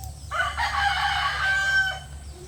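A live chicken at a home in the Philippines lets out one loud, drawn-out crowing call lasting about a second and a half, close by, with no one talking over it.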